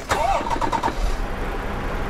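A DAF truck engine starts in American Truck Simulator with a short cranking burst, then settles into a low, steady diesel idle rumble, close and fairly loud, with no talk.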